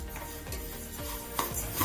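Black gram lentils being dry-roasted and stirred in a pan for ulunthu kali, with repeated scraping and clattering strokes against the metal at a steady close rhythm.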